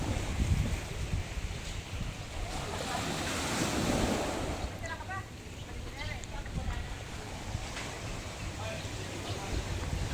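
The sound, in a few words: sea waves at the shore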